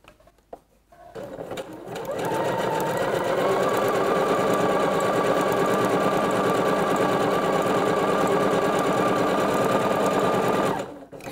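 A sewing machine set to a three-step zigzag stitch sews swimsuit elastic, starting after a short pause and then running in one continuous, fast, steady whir for about nine seconds before stopping abruptly.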